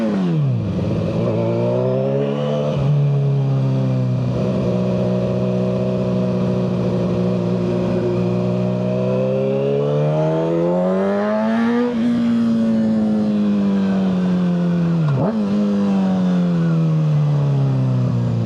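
A Kawasaki ZX6R motorcycle with a Yoshimura full header exhaust accelerates hard, its loud engine note climbing through the revs, dropping at gear shifts and climbing again, up close throughout.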